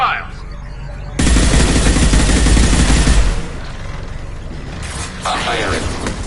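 Sustained automatic gunfire in a PS4 shooter bursts in loudly for about two seconds, then fades, with a second burst starting near the end over background game noise.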